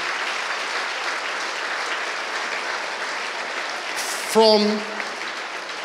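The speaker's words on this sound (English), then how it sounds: "So he needs a huge round of applause" A large audience at the 2022 Chairman's Award claps in a long, steady wash for Tim Dudding, dense and even throughout, with a brief voice cutting in near the end.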